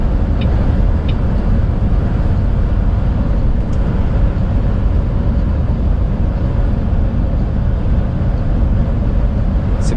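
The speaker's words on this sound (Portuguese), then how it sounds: "Esse barulho que você tá ouvindo aí é o vento, viu? Não é o ronco do caminhão, não." Strong wind roaring against the cab of a heavy truck on the highway during a storm with heavy rain in Goiás, a steady dense broadband rush heard from inside, continuous and loud throughout with no talk.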